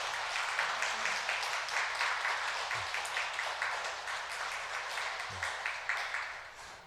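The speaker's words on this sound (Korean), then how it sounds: "여러분 박수로 환영해 주시죠." A church congregation at Sunday Mass applauds to welcome a couple about to be married, with a long, steady roll of clapping filling the space and a few faint voices underneath.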